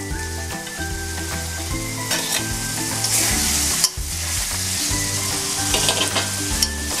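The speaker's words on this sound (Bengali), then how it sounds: "এবার আমি এতে মিশিয়ে দিচ্ছি ভেজে রাখা পনিরগুলো" Fried paneer stirred into hot, sizzling masala in a pan: steady crackling sizzle with scraping stir strokes and occasional clinks, close and continuous, no talking.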